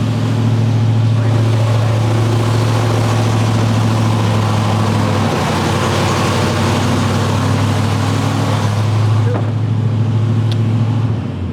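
A small-block Ford V8 idles high and steady up close from a vacuum leak and an open idle air control valve, a sustained droning hum that barely changes before easing slightly near the end.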